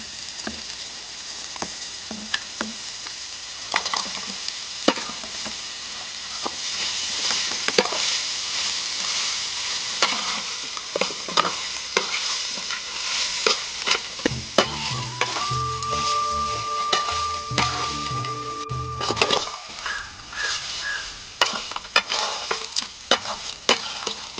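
Chicken pieces for a Tamil chicken uppu kari sizzle in a hot pan while being stirred, a constant frying hiss broken by frequent scraping and clattering strokes of the spoon, close and fairly loud.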